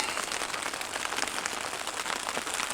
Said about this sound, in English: The heavens have opened and it was thunder and lightning